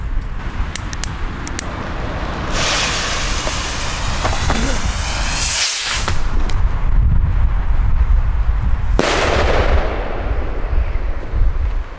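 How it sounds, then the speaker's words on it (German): An ABA salute rocket firework launched at a New Year's Eve celebration gives a loud rushing whoosh, then a sharp blast, followed by a second roaring burst and crackling outdoor noise, with people talking underneath. "Jetzt die ABA Salutrakete."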